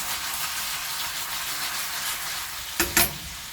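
A spoon stirs fried fish pieces and gravy for a traditional Sri Lankan fish stew in a pan, with a steady soft sizzle and two brief scraping stirs near the end.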